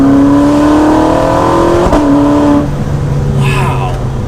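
A Ferrari 458 Spider accelerates hard with a loud, close engine note climbing in pitch, then a quick gear shift and drop before it pulls again, with a voice talking over it.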